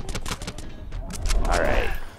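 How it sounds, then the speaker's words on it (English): Close, loud gunfire in Call of Duty Advanced Warfare with overdrive active: a rapid burst of sharp shots and mechanical clatter, then a fuller, warbling sweep of sound near the end. "It sounds weird when I shoot my gun and I use my overdrive"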